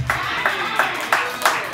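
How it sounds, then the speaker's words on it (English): Clapping at a comedy show greets a comedian, heard as a handful of distinct, evenly spaced claps standing out over a continuous bed of crowd noise. "Everybody get a round of applause for this guy!"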